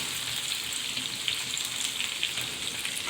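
Garlic and onion fry in a pan for a dried-fish mash, giving a dense, even sizzle that holds steady and close throughout, with no talking.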